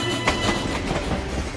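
A train rolling on rails at a Vienna station, heard as a steady loud rumble with faint rhythmic clatter from the wheels, close and continuous with no talk over it.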